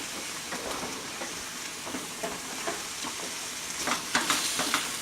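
Sliced apples and onions fry together in a pan over medium heat, a steady crackling sizzle with light stirring scrapes, no voices.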